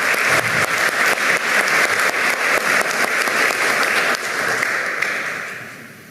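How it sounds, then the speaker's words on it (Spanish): An audience at a police ceremony honouring defenders of democracy claps loudly and steadily, a dense round of applause that thins and fades away over the last two seconds. "Fuertes los aplausos nuevamente para el señor."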